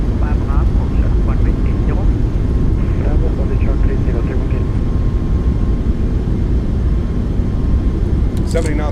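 Thrust reversers on an iFly 737 MAX roar during landing rollout in Microsoft Flight Simulator, a loud, dense, continuous engine rumble with a voice talking intermittently over it.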